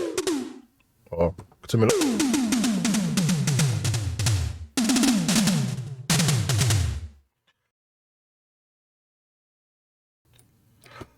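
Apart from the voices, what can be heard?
synthesized Simmons-style tom drum made in Zebra2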